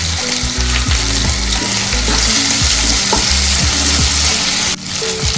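Cinnamon, cloves and poppy seeds sizzle steadily in hot oil for a mutton curry, with a constant dense fry hiss and occasional stirring scrapes and clinks throughout; no talking.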